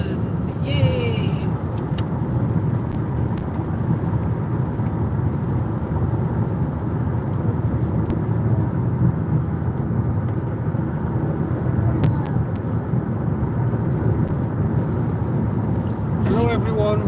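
Steady, loud road rumble and engine drone fill the cabin of a car on a long motorway drive toward London, an unbroken wash of tyre and wind noise throughout.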